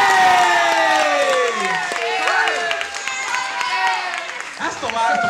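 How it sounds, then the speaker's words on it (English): A youth ministry group bursts into loud applause and cheering, with whoops and high children's shouts over dense clapping that stays strong for the whole stretch. "That's the loudest applause I've heard ever in here."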